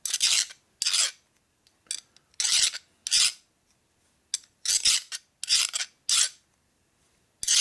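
A hand file rasps burrs off the gear teeth of a 1961 Harley-Davidson Sportster XLCH transmission in short, sharp strokes, in close bursts with brief pauses between them.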